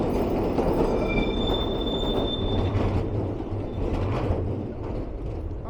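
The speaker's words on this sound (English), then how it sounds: "it's a hop on, hop off tram" A hop-on hop-off tram rolls past on a Rotterdam street, a steady close rumble with screeching wheels and clattering rails throughout.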